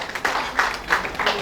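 An audience claps in honour of Colonel Sudhir Kumar Singh at a Kargil Vijay Diwas ceremony, a short burst of steady, moderately loud applause with a faint voice underneath.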